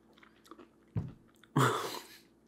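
Someone chews crunchy honey-bun-flavored food close to the mic, with a light bite at first and then a loud crisp crunch followed by fading chewing. Quiet background otherwise.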